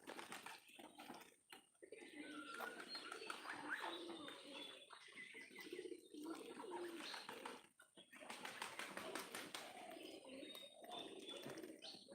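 Pigeons at a pigeon farm coo in soft, irregular calls amid a busy, close flock, with a person talking intermittently over them.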